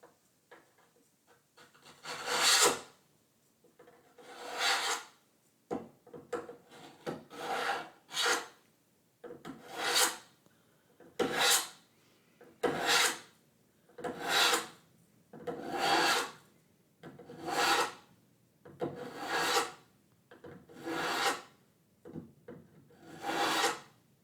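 A knife blade is drawn across a coarse ceramic sharpening stone in about fifteen slow, evenly spaced rasping strokes, close and clear in an otherwise quiet room.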